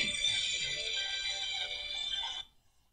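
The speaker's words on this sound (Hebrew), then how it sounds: "בטח יואב מצלצל אליי" Phone ringtone with a bright, steady tonal pattern that rings for about two and a half seconds, then cuts off abruptly to near silence.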